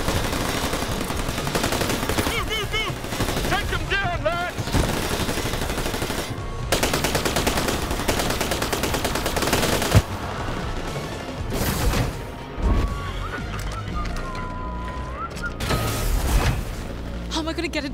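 Rapid machine-gun bursts and single shots crack through a firefight in the video game New Tales from the Borderlands, layered with booms and crashes over a busy, loud score, with character voices calling out between the volleys.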